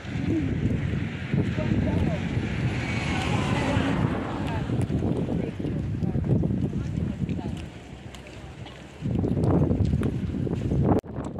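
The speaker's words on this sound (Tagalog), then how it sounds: "Ang lamig dito guys. Mahangin." Strong wind gusts outdoors on a cold, high spot, with steady broadband rushing and buffeting on the microphone that drops briefly before surging again, while people talk over it.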